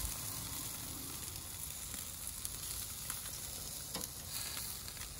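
Curried chicken sizzles steadily over an intensely hot charcoal grill, a quiet continuous crackle and hiss with a few sharper pops, no talking.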